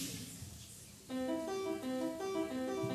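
After a moment of quiet room noise, single sustained piano notes sound one after another, soft and clear, with no one talking.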